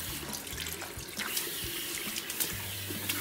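Water runs steadily from a salon shampoo-basin faucet while hair is rinsed, a close, continuous hiss with small splashes and uneven spatter as it hits the scalp; no talking.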